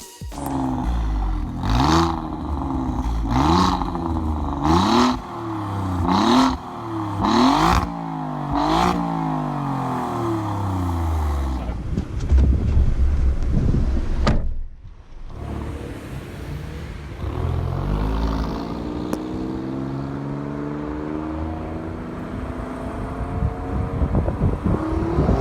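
An Alfa Romeo Giulia Quadrifoglio, a rear-wheel-drive saloon, accelerates hard on the road, its engine climbing through several rapid upshifts in a rising, falling pattern, then easing off before pulling up through the revs again, loud and close.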